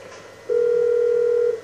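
Steady electronic phone tone from a call being placed in Grand Theft Auto V, a single sustained ring-back note held for about a second, fairly loud, with no talk over it.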